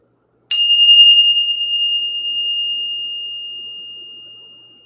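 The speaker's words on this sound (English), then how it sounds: "Let's ring the bell." A single bell struck once, its sharp attack giving way to a clear, pure ring that sustains and slowly fades for several seconds, loud and alone with no voices.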